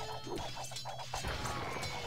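Buildings in Age of Empires II being smashed during a 2 vs 3 match, giving a run of repeated crunching impacts at a steady pace over a constant low game hum, with no voices.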